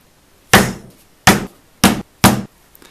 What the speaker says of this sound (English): my mallet and punch can come into place because I want to punch these 4 holes